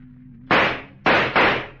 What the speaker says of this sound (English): Joe, you shot him!